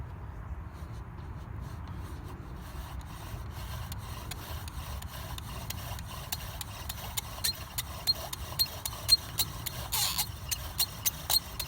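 A bow drill spindle rubs and grinds into wood in steady back-and-forth strokes, a faint squeaky friction that grows louder and more rhythmic toward the end.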